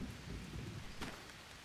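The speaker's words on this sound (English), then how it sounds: "And it's raining again." Steady rain falls in the survival video game Green Hell, a dense, soft hiss of drops with low rumbling beneath and a brief brighter swell partway through, continuous and faint with no talk.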